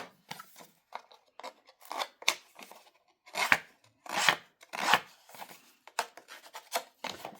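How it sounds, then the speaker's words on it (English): A distress tool scrapes along the edges of cardstock in short, crisp, rasping strokes, each a quick burst with a brief gap before the next, close and fairly quiet, with no talking. "So we'll just real quick run our distress tool on there."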